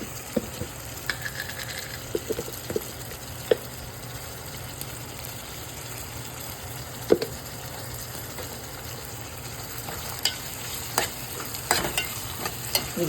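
Ginger garlic paste sizzles and spits steadily in hot oil for an egg curry, a continuous crackling frying sound with scattered sharper pops and a few light utensil scrapes, close and unaccompanied by talk.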